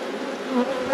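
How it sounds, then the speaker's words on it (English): Honey bees swarm and buzz around an open white hive in a thriving apiary, a dense, steady close drone with slight swells in loudness. "So many bees"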